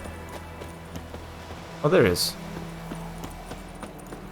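In The Witcher 3, a horse's hooves clip-clop in a steady, light rhythm close by, with a brief neigh-like burst in the middle and someone speaking over it.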